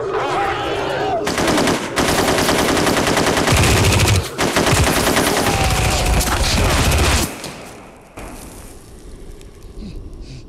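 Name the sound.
machine gun fire sound effect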